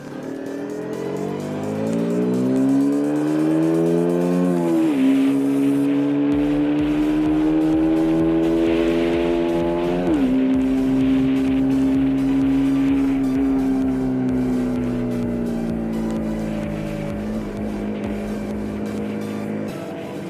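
KTM motorcycle accelerating hard on a road: a loud, continuous engine whine climbing steeply through the revs, dropping sharply at each gear change, then climbing again, with heavy wind rush throughout.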